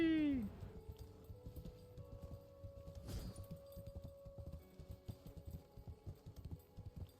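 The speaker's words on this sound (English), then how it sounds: "Yay. Horse." A horse mount in the Wayfinder video game trots with a steady, rapid clip-clop of hooves, moderately close, after a brief opening whinny, under continuous game sounds.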